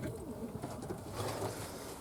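Pigeons and doves, half-racing pigeons and curved-tailed doves, cooing softly in low repeated calls over a faint rustling background, quiet and fairly close.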